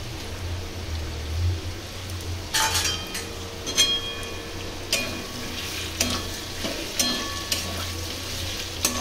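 Poppy seed and green chili paste being stirred into potatoes in a pan for aloo posto: a low steady sizzle under repeated scraping spatula strokes and occasional metallic clinks, close and without speech.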